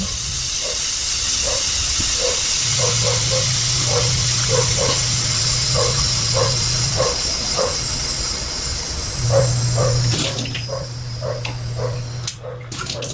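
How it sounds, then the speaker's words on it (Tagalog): Steam hissing steadily out of a cooking pot of boiling pork bone soup before the lid is opened, with a rhythmic pulsing under the hiss and a few metallic clanks near the end. "kailangan ubusin muna natin yung usok o yung singaw ng nasa loob bago natin yan buksan"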